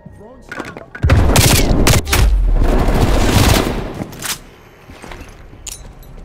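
Gunfire and heavy explosive booms fill a multiplayer match of Call of Duty Black Ops Cold War as a frag grenade goes off. A loud dense burst of blasts holds for about three seconds, then fades into scattered shots and lighter thuds.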